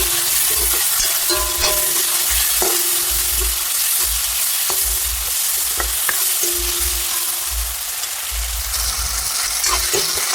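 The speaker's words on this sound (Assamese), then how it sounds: "মছলাখিনিতে ভালদৰে ভাজি ল'ম।" Spice masala fries in a pan for a fish curry with taro, a loud close sizzle broken by repeated low scraping and stirring strokes of a spatula.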